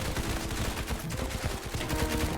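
Rapid gunfire in the Roblox shooter Hypershot, a dense, continuous clatter of shots layered over loud, busy game noise throughout the short burst.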